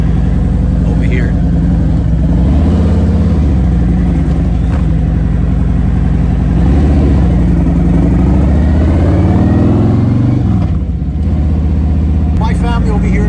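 Harley motorcycle engine running steadily as it rides across a lawn, a loud continuous rumble with rising and falling revs throughout, someone talking over it.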